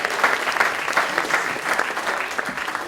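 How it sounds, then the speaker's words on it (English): An audience at a startup event applauds a presenter, a steady wash of clapping from many hands that holds evenly for a few seconds with no voices on top. "Let's give Daniel a round of applause, guys."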